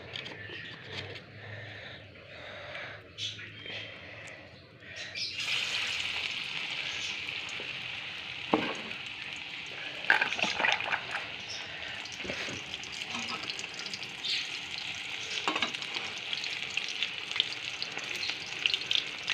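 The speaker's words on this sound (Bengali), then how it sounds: "দিয়ে এখন এই বড়া ভাজবো।" Chopped Bombay duck fish fritters fry in hot oil with a steady, close sizzle that swells louder after a few seconds, punctuated by occasional scrapes and stirring knocks, with no talking.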